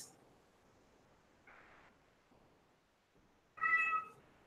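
A pet cat meows twice, a short faint call and then a louder, clearer meow near the end, against a quiet room.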